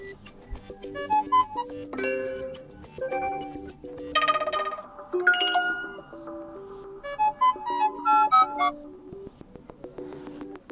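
A series of short, bright electronic chime notes plays as the default notification tone on an Xreal Beam Pro, one melodic snippet after another. The notes are clear and close, with no talking over them.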